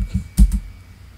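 A few quick keystrokes on a computer keyboard enter a command in AutoCAD, brief soft clicks close to the microphone in a quiet room.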